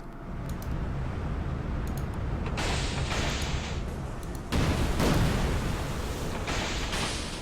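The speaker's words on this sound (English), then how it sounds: "So let's get some torpedoes on this one here." A torpedo attack on a ship in the naval battle of the Order of Battle strategy game: a steady roar of rushing, booming noise with two sharp surges of blast-like impact partway through.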